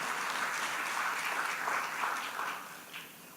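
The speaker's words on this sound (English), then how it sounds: "Give her a round of applause." A conference audience claps for a panelist being introduced, a fairly soft, even wash of applause heard from a distance that thins and fades over the last second.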